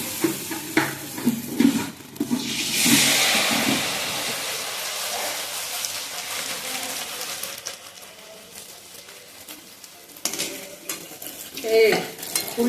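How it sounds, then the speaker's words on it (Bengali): Rose cookie batter on a flower-shaped mould frying in hot oil, giving a bubbling sizzle that swells early on, with metal clinks and scrapes of the mould against the pan near the start and the end. "তেলটা ভালোভাবে গরম করে নিয়েছি, এবার আমি ভেজে নেবো স্ন্যাক্সগুলো।"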